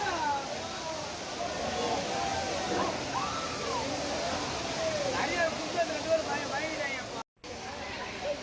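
Five Falls at Courtallam, Tenkasi, roars as a steady broadband wash of falling water, with a crowd's babble and scattered voices mixed beneath the constant rush.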